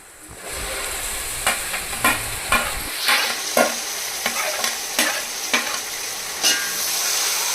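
Marinated chicken for chicken dum biryani hitting a hot pan, a strong sizzle followed by a regular series of close, sharp stirring scrapes in the frying pieces.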